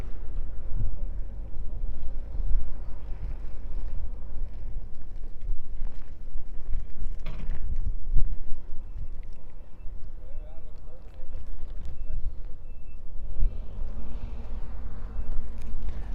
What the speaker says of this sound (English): I'm protecting the mic from the wind here, coming from the southeast.